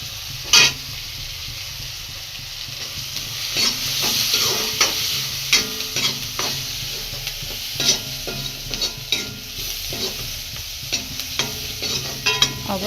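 Onions sizzle steadily in a pan with turmeric while a spoon stirs them in repeated scraping strokes, close and fairly loud with no talking.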